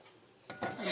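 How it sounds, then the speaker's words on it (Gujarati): A metal pressure cooker is set down onto a gas stove in a home kitchen, making a brief clatter and scrape of metal after a quiet moment, growing louder toward the end. "ચડાવી દીધું કુકર ગેસ ઉપર."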